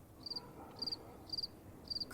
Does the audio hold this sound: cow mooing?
no